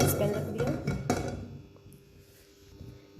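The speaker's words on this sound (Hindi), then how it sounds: "ये मैंने अपना चूल्हा चला लिया, मैंने अपना सॉस पैन रख दिया" A saucepan is set on a lit stove burner in a home kitchen while making kahwa, giving close metallic clanks and clatter that are loudest at the start and then settle into faint scraping.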